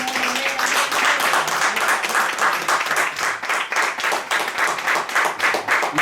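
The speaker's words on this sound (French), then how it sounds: "Est-ce qu'on peut applaudir la parole," A church congregation applauds steadily, with rhythmic, fairly loud clapping that gradually takes on a unified beat and carries on without speech.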